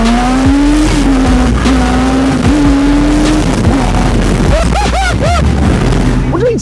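A Hayabusa-engined grass-track buggy on tarmac revs loud and close, its high engine note climbing and dropping through gear changes with tyre noise, then sharp rising revs near the end.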